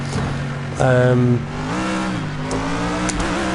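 An old F1 car engine in the racing game Project CARS drones and shifts pitch, briefly rising to a louder, higher rev before settling back into a steady hum.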